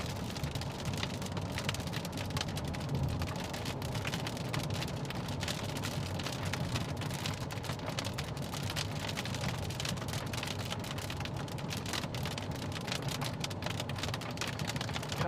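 Heavy rain drums steadily on a vehicle during a Minnesota storm chase, with dense, continuous patter and splashes holding an even loudness throughout and no talking.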